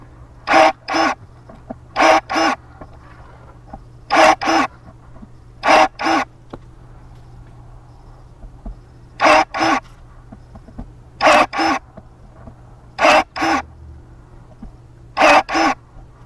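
FIITE 21V cordless electric pruning shears cut branches about an inch thick, giving close, loud paired bursts of motor whir and snap, repeated about ten times with short quiet gaps.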